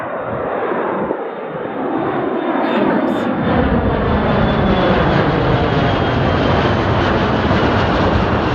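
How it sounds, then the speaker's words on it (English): A heavy jet charter flight, a 767, approaches overhead with a loud, steadily building roar that swells after a few seconds and holds broad and sustained to the end. "It sounds like our heavy jet charter flight for the day is getting close."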